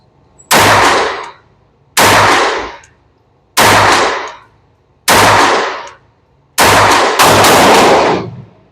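Six sharp .22 pistol shots from a Taurus TX22 and Ruger 22/45 at an outdoor range, fired at a steady pace about 1.5 seconds apart, the last two nearly back to back, each a loud crack with a short ringing tail.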